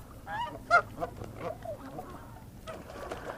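Geese honk close by in a noisy flock, a cluster of sharp nasal calls with one loud honk standing out, then softer scattered honks over low background noise.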